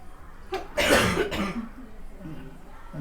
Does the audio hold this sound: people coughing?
yes